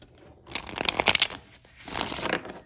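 Tarot cards are shuffled for a Celtic cross spread in two crisp, riffling bursts, close and fairly loud, with a short pause between them.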